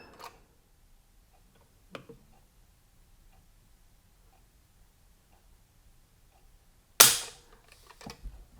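A gun trigger on a B&T SPC9 SD G integrally suppressed pistol with a Glock lower is pulled against a gauge, giving one sharp loud click after faint ticks, with another light click soon after.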